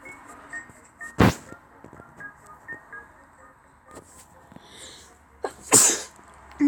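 Two sharp, loud sneezes burst out close to the mic, spaced several seconds apart, over a quiet background of faint tones and small sounds.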